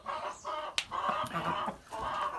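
Chickens cluck continuously up close in a barn shared with geese, overlapping calls in a steady chatter with a few sharper squawks, no talking.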